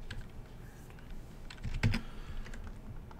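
Quiet computer keyboard typing, a scatter of soft key clicks with one sharper tap near the middle, close by and alone.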